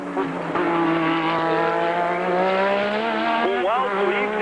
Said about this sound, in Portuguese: São 10 carros apenas na pista.